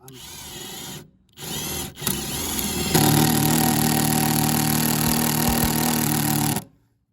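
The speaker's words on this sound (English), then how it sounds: "after I bore the holes in the corners" A power drill bores holes into the corners of a wooden countertop, whirring in two brief bursts and then grinding loudly and steadily through the wood for several seconds before stopping abruptly.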